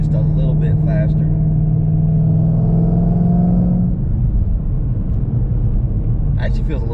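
Heard from inside the cabin, a Ford Shelby GT500 accelerates with a loud, steady low engine rumble and a rising drone. Brief bits of voice come at the start and end.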